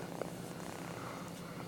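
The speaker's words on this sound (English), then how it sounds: "This is my kitten Phoenix that we just found." A newly found young kitten purring close up, a steady, continuous low rumble that holds evenly throughout with no other sounds.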